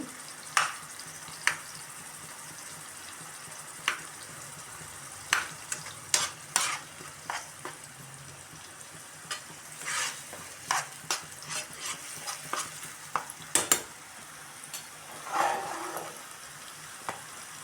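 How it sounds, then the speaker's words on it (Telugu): Blended onion paste fries in a pan under a quiet, steady sizzle, with frequent sharp clicks and scrapes of a spoon stirring it. "మిక్సీ పెట్టుకున్న ఉల్లిపాయలు అయితే పచ్చివాసన పోయేదాకా అయితే వేగనివ్వాలండి"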